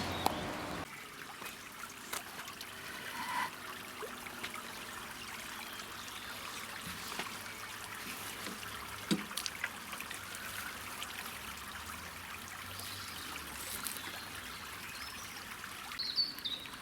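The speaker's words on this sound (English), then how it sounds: "just by putting the water on there from the watering can" Water from a watering can pours and trickles onto a greenstone sealed surface outdoors, a soft steady splashing and dribbling that runs through the whole stretch, with faint bird calls in the background and no talk.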